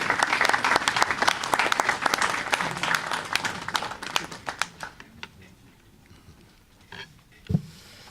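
A room of delegates at joint ACP-EU technical negotiations breaks into loud, dense applause that thins out and fades after about five seconds, leaving scattered claps and small noises near the end.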